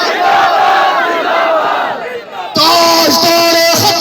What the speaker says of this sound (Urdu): جی تقریر ختم, اب آپ نے نعرے لگانے, لاؤ گے جی نعرے, سینے کا زور لگا کے تاجدار ختم نبوت